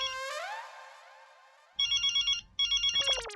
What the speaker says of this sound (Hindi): अरे ये तो जेठालाल का फोन है,